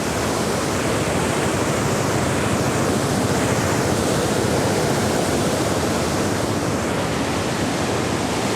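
Water roars through the opened gates of the Bhanvad dam during monsoon rain, a loud, steady, unbroken rush that fills the whole stretch without any talking.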